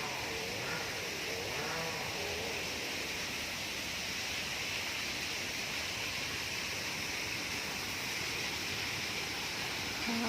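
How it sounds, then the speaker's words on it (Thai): A waterfall in a butterfly and insect garden in Vachirabenjatas Park, Chatuchak, gives off a steady, even rush of falling water that stays unbroken and fairly close throughout, with no voices over it. "เป็นน้ำตก"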